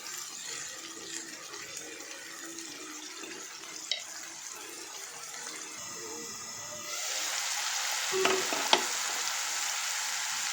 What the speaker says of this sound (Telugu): టమాటా గుజ్జు అనేది దీంట్లో మొత్తం ఇంకిపోయే వరకు, బాగా కలిసిపోయే వరకు కొంచెం ఫ్రై చేసుకున్నాము.